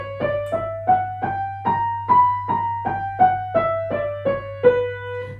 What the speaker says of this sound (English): we're not doing harmonic minor that sounds like this